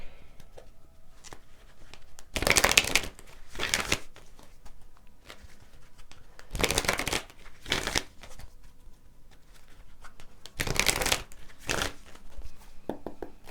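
Oracle cards are shuffled in three short, close bursts of riffling separated by quiet pauses, with no voices.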